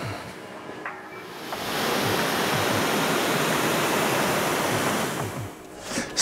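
A water spray rinses an alloy wheel, giving a steady, loud hiss that swells after the first couple of seconds, holds evenly, then eases off near the end.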